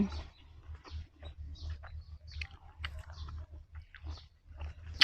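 Someone bites and chews a Kaew Khamin mango up close, with repeated soft, crunchy bites over a quiet background and no talking.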